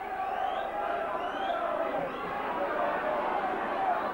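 Large crowd at a St Helens v Wigan rugby league match, a steady broad roar of chatter and cheering filling the stands, with commentary running over it.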